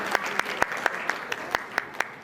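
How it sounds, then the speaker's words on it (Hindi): Audience at a wedding sangeet ceremony claps, a dense steady patter of hands with sharper individual claps standing out at a regular beat, fairly close and lively. "एक बार जोरदार तालियां हो जाए।"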